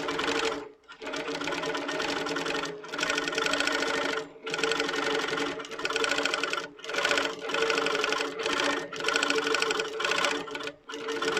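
A sewing machine stitches petals at 11 stitches per inch in a series of rapid mechanical runs, each broken by short pauses, loud and close.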